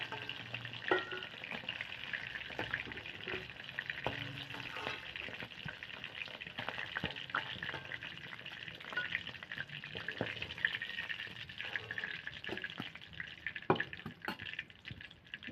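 Katla (rohu-type carp) fish frying in hot oil for a coconut curry, a steady dense sizzle running the whole time with scattered pops and crackles, close and moderately loud, with no talking.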